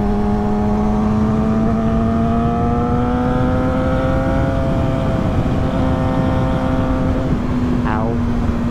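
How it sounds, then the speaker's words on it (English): A motorcycle engine drones loud and close while riding, its steady harmonic note slowly rising in pitch with a brief wavering near the end, heard over wind rush. "when I don't have my visor down, this bike is so loud"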